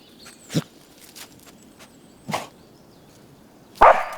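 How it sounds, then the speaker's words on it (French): A scent-detection dog working in a forest with eucalyptus odour gives a few short, separate barks, the last one nearest and loudest, over quiet rustling. "Si elle aboie, c'est qu'elle a trouvé."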